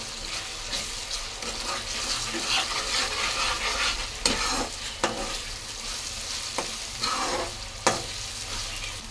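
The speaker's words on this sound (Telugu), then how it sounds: "అల్లం వెల్లుల్లిపాయ పేస్ట్ అయితే పచ్చివాసన పోయేంత వరకు వేగనిద్దామండి" Ginger garlic paste sizzling in an oily pan for chicken curry, a continuous frying hiss with repeated spatula scrapes and clinks against the metal, nearby and without speech.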